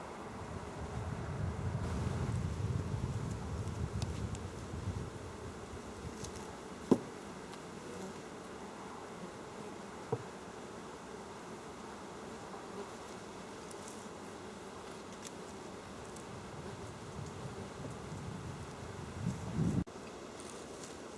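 Honey bees buzz around hive supers during a honey harvest, a soft continuous droning hum that swells early on and later, with a few faint clicks and knocks.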